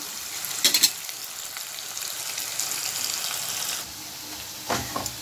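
Onions sauté in a pan for a koduva fish gravy, a close, continuous frying sizzle with brief bursts of louder crackle and a few stirring scrapes near the start and end.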